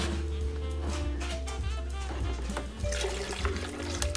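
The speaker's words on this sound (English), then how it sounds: "so we're gonna go ahead and pour in our milk" Milk poured over ice into a glass for a salted caramel frappuccino, a continuous splashing, trickling liquid sound with clinking and gurgling, fairly close and steady over several seconds.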